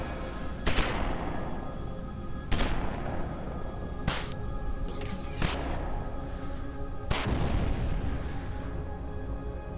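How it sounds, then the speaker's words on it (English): Gunfire in the video game Starforge: five heavy, booming shots spaced a second or two apart, each a sharp crack trailing into a long echoing decay over a constant low background hum. "You can fire in the air too."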